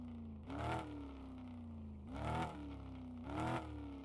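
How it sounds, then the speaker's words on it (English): In Car Mechanic Simulator 2026, the Luxor Streamliner MK3's engine idles with a steady hum, broken by three short revving bursts spaced about a second apart, close and alone with no talk. "If you walk up and just straight up enter the vehicle, it will automatically put you with the engine running and stuff."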